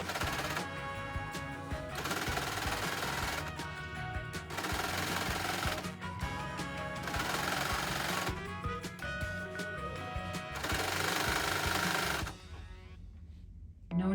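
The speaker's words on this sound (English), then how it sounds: "align it along the edge of that cover stitch foot, and stitch as we go" A Baby Lock Accolade serger running a cover stitch along a folded fabric hem, loud steady rapid mechanical stitching in long bursts separated by brief pauses, stopping near the end.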